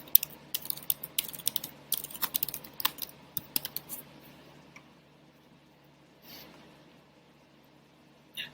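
Brisk, close clicking of keys on a computer keyboard comes in bursts for about four seconds, then fades to near silence with a couple of faint clicks.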